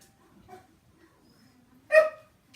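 Indoor dogs giving a faint whimper and then one sharp bark, close by, with quiet pauses between the sounds.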